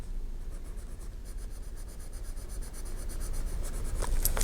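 A pen scratches out colour names on paper in a disc-bound notebook. Soft, continuous scratchy strokes with faint clicks grow a little louder near the end, close and alone.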